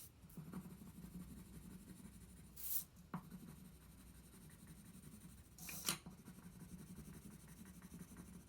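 Quiet, continuous scratching of coloring on paper, with a faint, even scraping texture throughout and two brief, brighter swishes.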